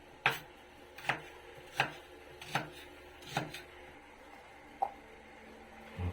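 A knife chops one medium onion in a series of six evenly spaced, crisp strikes on a board, quiet and close with no talking.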